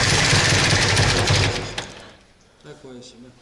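Ford Sierra engine knocking, a loud, rapid mechanical clatter heard close up for about two seconds before it drops away, then a voice speaks quietly over faint engine noise.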